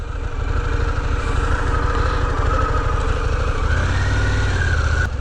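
A Harley-Davidson Pan America motorcycle engine runs at a steady, throbbing idle, close and continuous with a slight shift in tone near the end.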